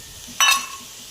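Chicken is frying in a pan as soy sauce goes in, heard as one brief bright metallic clink over a soft, steady background sizzle.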